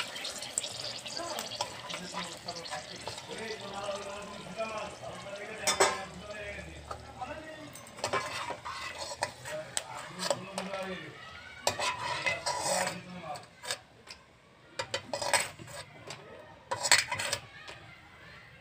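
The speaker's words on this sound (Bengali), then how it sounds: "তাই ফোড়নে দিলাম শুকনো লঙ্কা," Dry red chillies fry in oil for a tempering, a soft sizzle beneath frequent clattering stirs and metal scrapes against the pan, close by, with a person talking over parts of it.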